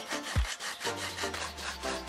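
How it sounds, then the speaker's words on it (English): A wooden skewer scrapes across dried paint to etch lines, making soft, rough scratching and rubbing strokes close up over a faint low hum. "I'll use a wooden skewer to etch a message on the paint. The skewer will scrape it off."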